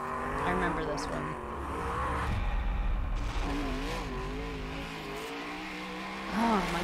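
A 1400-horsepower Ford Mustang race car at Pikes Peak, its engine wailing and revving in rising and falling sweeps with tire noise, heard under a person talking over it.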